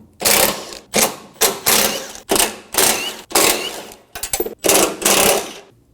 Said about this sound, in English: Using a 13mm socket, we're going to remove all of the perimeter bolts.